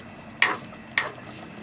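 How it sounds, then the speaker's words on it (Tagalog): A spoon twice scrapes and clinks against a pot while coconut milk (gata) is stirred into a kalamyas vegetable stew, two short, sharp strokes over a quiet background. "medyo i-mix lang po natin ng kaunti ang kanyang gata"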